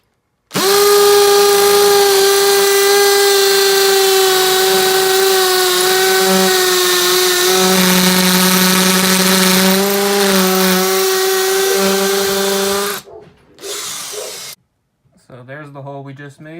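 A Makita XPH07 brushless hammer drill bores a hole in one long, loud, steady whirring run of about twelve seconds, then winds down and stops, with a couple of short follow-up bursts afterward.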